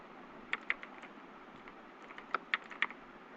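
Keys clatter on a computer keyboard while an SQL insert command is entered, quiet clusters of sharp clicks in two short bursts with a pause between, no voices.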